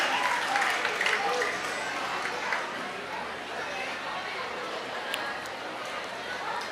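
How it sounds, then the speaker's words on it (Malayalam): An audience at a family reunion gathering applauds an elder, a broad wash of clapping from a crowd, strongest at the start and then settling into a steady patter with some chatter. "എല്ലാവരും ഒരു നിറഞ്ഞ സദസ്സോടെ ആ നമ്മുടെ വല്യപ്പാക്ക് ഒരു കയ്യടി കൊടുക്കണം."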